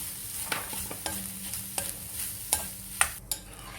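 Grated coconut is stirred and fried in a pan for chena teeyal: a soft, steady sizzle with a spoon scraping and tapping against the pan every half second or so, close and fairly quiet.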